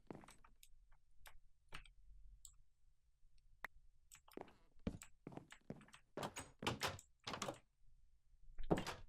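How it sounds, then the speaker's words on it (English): Wooden door placed and clicked in Minecraft survival, a series of sharp clicks and thunks scattered irregularly through the clip, fairly close, with quiet gaps between them and busier clusters near the end. "Maybe we could do a door in around here."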